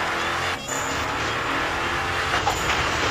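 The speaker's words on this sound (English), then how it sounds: "Look how wet this car sounds, bro." A car engine in the Battlefield video game roars steadily and close, a continuous loud drone with brief shifts in pitch, with no speech.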